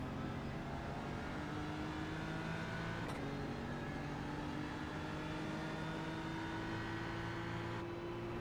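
Race car engine heard onboard during a GT3 sports car race at Watkins Glen, a steady droning roar with rising pitch as the car accelerates, loud and continuous without talk.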